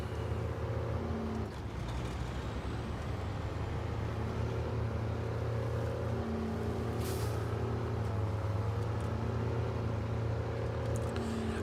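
A heavy truck engine from the SnowRunner video game rumbles steadily at low pitch, loud and continuous with slight changes in pitch, alone without talk.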